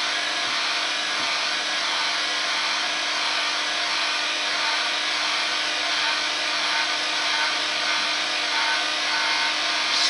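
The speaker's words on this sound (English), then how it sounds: "it's a heat gun meant for stripping paint, so it gets hot enough to melt the paint" A hot-air heat gun for stripping paint blows continuously with a steady, even hiss and hum, drying paint on a pen spinning on a lathe.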